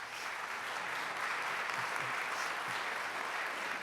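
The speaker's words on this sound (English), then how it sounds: "let's give them all a round of applause" An audience at a Rotary club meeting applauds steadily, a dense even wash of clapping hands that fills the whole moment without voices.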